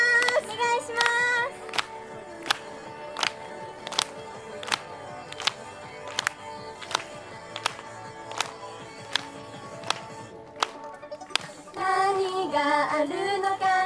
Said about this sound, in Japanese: 皆さん、手拍子お願いします。